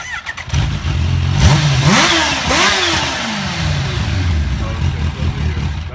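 A Kawasaki H2 motorcycle engine starts and revs sharply twice in quick succession, loud and close, then settles into a rough idle while people talk nearby.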